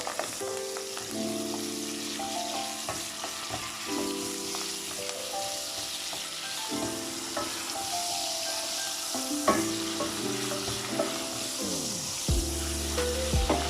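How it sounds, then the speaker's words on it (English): Onion, chilli, thyme and curry leaf fry in a pan with a continuous soft sizzle, while intermittent scrapes and clinks of stirring sit close by over a background of tonal kitchen hum. "the onion, chilli, thyme and curry leaf. Just going to give this a quick stir."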